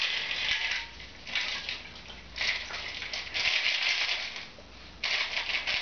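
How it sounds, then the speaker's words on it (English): A sour appletini is strained from a shaker into a glass, giving several bursts of splashing, trickling liquid with light rattling, each surge lasting about a second and close by. "Strain it right into the glass."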